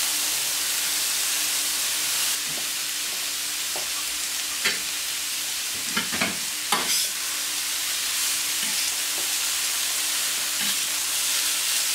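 Cooked rice, made earlier in a rice cooker, sizzles steadily as it is reheated in a pan for a shiitake and sesame fried rice, with a constant frying hiss and several brief stirring scrapes and clicks in the middle.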